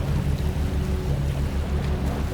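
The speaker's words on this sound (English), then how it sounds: "As the ferry travels, you may hear small sounds. Wood creaking gently, water brushing the hull" A steady low rumble and wash of water runs under a moving boat, continuous and fairly close, with no clear creaks standing out.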